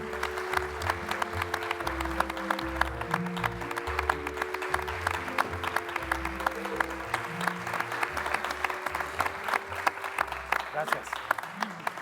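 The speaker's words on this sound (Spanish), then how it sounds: "Un aplauso, por favor." An audience applauds a guest in a studio setting, steady clapping that sits under talk from the hosts, with music or a tone running beneath.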